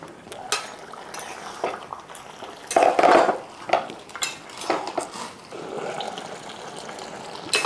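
A lid clatters down onto a metal cooking pot of mutton curry made with bamboo shoots, Tripura style, a single bright clank amid light kitchen clinks and simmering.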